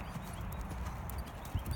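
Horse cantering in a riding lesson, a steady three-beat rhythm of hoofbeats on soft ground, moderately close, with a brief snort near the end.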